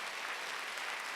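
A church congregation claps together during a Wednesday worship service, a soft, steady blur of many hands heard at a distance for a brief moment.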